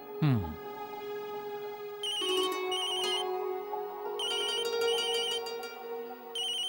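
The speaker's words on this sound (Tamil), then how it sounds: "அர்ச்சனா ஃபோன் பண்றா பாத்தியா" A mobile phone's ringtone rings for an incoming call in a home, playing repeated bursts of a bright electronic melody. A voice speaks softly underneath.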